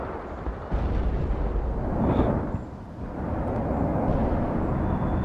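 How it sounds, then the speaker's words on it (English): An artillery barrage in the real-time strategy game World in Conflict: a continuous dense roar of overlapping explosions and rumbling booms, loud and sustained with no pauses. "What an artillery barrage."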